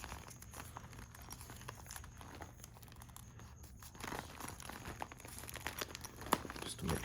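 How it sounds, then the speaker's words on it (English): Tape crinkling and tearing while it is applied across the zipper of an inflatable suit, a steady close rustle with small crackles and a sharper rip near the end, with no voices. "Before I put the stop on, just so I can kind of check myself, I'm going to kind of tape this."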